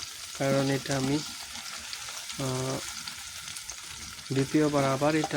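Chicken pieces fry in a pan for a village-style chicken mash, with sizzling running throughout while someone talks over it in short phrases.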